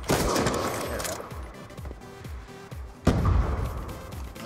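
Scorpion Evo gunfire in a first-person shooter, a fast rattling burst of closely spaced shots, then another loud burst after a short pause, near and punchy.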